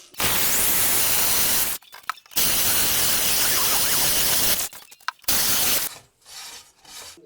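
Dense abrasive hissing and grinding as a hole is drilled in ceramic tile, in three long sustained bursts separated by short pauses, ending in quieter rubbing. No voices are heard.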